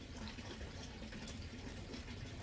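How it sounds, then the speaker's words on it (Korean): Water trickles steadily and faintly behind a wood fire burning under an iron cauldron where cabbage greens are boiled outdoors, a soft continuous wash with no voices. "뒤에는 또 물소리가 졸졸졸하고 이러기 때문에"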